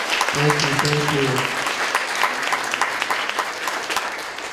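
Audience applause for panelists at a transgender visibility and awareness panel, a steady wash of clapping from a crowd throughout, with a voice speaking briefly over it near the start.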